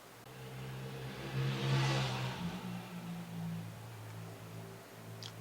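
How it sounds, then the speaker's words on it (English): A motorbike passes outside the old Ancient Ram Inn, heard indoors as a muffled engine hum. It swells to a peak after about two seconds, then slowly fades while the low drone continues. "Motorbike."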